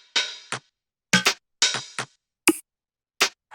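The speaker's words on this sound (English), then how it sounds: "then after that, we have sort of like all this background percussion" Sparse background percussion loop for a lush rave track, with short crisp bright hits and clicky ticks in an uneven, syncopated pattern separated by silence, dry and up front.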